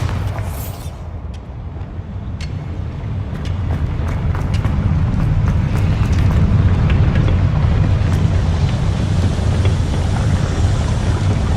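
The Bombarda blasting spell explodes in the Hogwarts Legacy video game: a sharp burst at the start grows into a loud, sustained roaring rumble with scattered crackles that carries on to the end.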